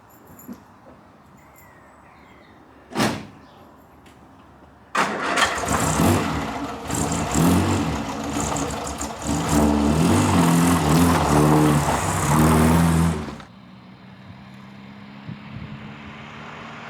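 An Austin pickup's door thuds shut on a quiet sunny winter day, then the engine cranks and starts into a loud, rough idle before the truck pulls away and the sound drops off abruptly.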